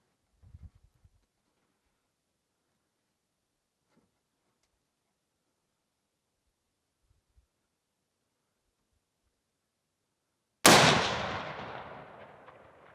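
A single sharp, loud Tikka Veil rifle shot fires at a target outdoors and rings out in a long decaying echo after a stretch of near silence.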